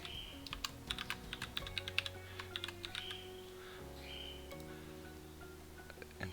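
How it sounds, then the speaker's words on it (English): Rapid, uneven keystrokes on a computer keyboard while typing a subheading in a word-processing document, close and clear against a low steady background hum, with no voices. "we're going to type in a subheading"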